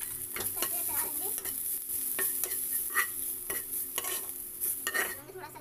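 Spices frying in a pan with a steady sizzle while a spoon stirs and scrapes in irregular strokes, close and fairly loud, with no voices.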